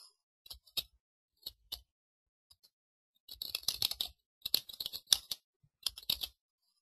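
An address being typed on a computer keyboard, with a few isolated key taps followed by bursts of rapid, close, crisp keystrokes in a quiet room.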